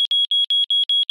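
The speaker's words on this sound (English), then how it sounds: "The Luminex Sheath Delivery System has an audible alarm that sounds to indicate an issue." Rapid, loud, high-pitched electronic beeping from the alarm of a Luminex Sheath Delivery System on a Luminex 200 analyzer, about six evenly spaced short beeps per second, close and alone.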